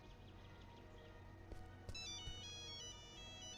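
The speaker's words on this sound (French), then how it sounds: "Oh la sonnerie de fou." A phone ringtone plays in the horror video game Tales Beyond The Tomb: a melodic electronic tune starting partway through and repeating its short phrase over quiet ambient background noise.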